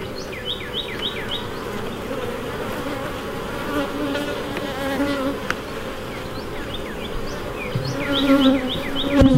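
Honey bees buzzing in an open hive during an inspection, a dense, steady drone close to the microphone with individual bees whining past.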